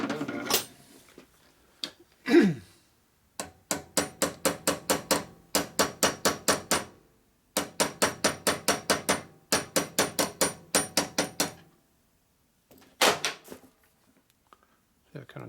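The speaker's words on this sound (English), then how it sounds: "It's probably better just try peening on that with a hammer" Hammer peening to straighten a copper oil line tube from a 1930-36 VL, RL or EL motorcycle, in rapid bursts of evenly spaced sharp metallic taps separated by short pauses, with a few isolated louder knocks and brief talk at the start.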